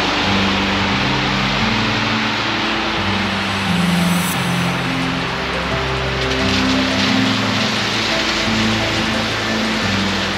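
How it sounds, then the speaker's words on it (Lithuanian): Light rain in Kiel, heard as a dense steady wash over a constant low vehicle rumble and hum, with no talk. "Truputį Kyli lyja"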